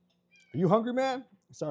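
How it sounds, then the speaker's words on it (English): A hungry pet cat in a home kitchen lets out loud, close, drawn-out meows, one after another, and someone talks to it in between. "You can hear him meowing."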